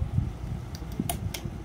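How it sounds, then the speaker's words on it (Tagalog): A household air conditioner runs with a steady low hum and faint airflow, with a few light ticks and clicks over the top. "Ay nice atong aircon mi."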